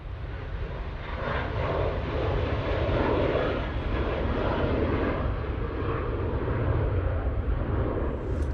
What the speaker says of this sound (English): Jet2 737 now on the roll.